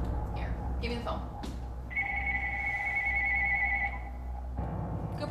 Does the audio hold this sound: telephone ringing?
yes